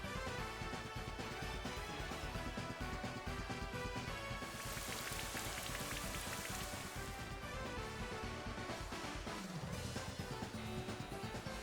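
Rain from the Rain Dance move in the Pokémon Sword/Shield video game, heard as a quiet, steady patter of falling rain that runs unbroken under a faint game soundtrack.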